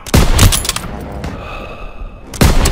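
Gunfire in the Call of Duty: WWII video game: loud bursts of rapid shots at the start and end, with a quieter stretch of rumbling battle noise between.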